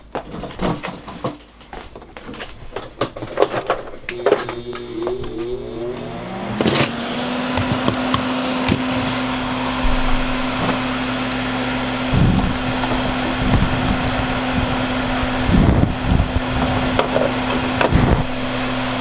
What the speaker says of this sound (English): Get my fan going so I don't breathe the shit into.